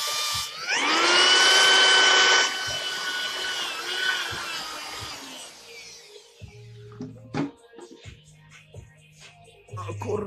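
A power drill fitted with a hole saw whines loudly for a couple of seconds as it bites through material, then winds down, followed by scattered knocks and handling noises.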